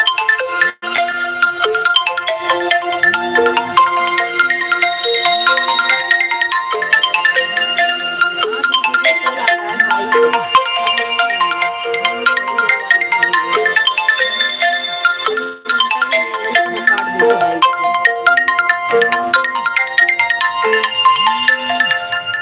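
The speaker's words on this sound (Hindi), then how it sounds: "फोन आ रहा है जी, लेकिन नहीं उठाऊंगी अभी" A phone ringtone plays a bright repeating melody loudly and without a break, as if an incoming call keeps ringing.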